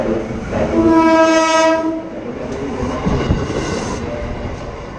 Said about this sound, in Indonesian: Untuk yang sering naik kereta api, pasti akrab dengan suara tersebut.